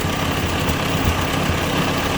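A 1957 Ford 841 tractor engine idles steadily and loudly up close after carburetor work, a continuous low rumble with a rhythmic knocking pulse and no voices over it.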